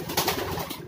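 Pigeons coo softly close by in a short burst, with light rustling around them.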